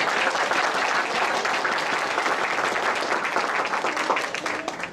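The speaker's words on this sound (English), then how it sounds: "another large round of applause for Turkish Airways and their donation to this contest" A crowd applauds Turkish Airways at a Turkish Embassy art and essay contest, dense continuous clapping throughout that stays steady and full before easing slightly at the end.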